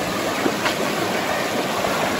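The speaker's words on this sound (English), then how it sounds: "That's the South Howqua River, or South Branch" Steady rushing flow of the South Howqua River, a continuous close wash of running water with no breaks, heard from the bank along a bush walking track.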